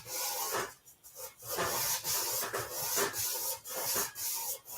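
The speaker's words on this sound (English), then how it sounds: "you're sanding on a compound curve" Sandpaper rubs by hand over the compound curve of a motorcycle fuel tank, steady back-and-forth scratchy strokes with brief breaks, close and fairly loud, no voices.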